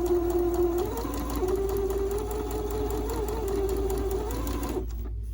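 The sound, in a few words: sewing machine stitching fabric on the diagonal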